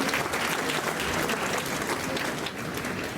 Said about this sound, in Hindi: सभी से अनुरोध है कि तालियों की गड़गड़ाहट के साथ आज हमारे अतिथियों का स्वागत एवं सत्कार करें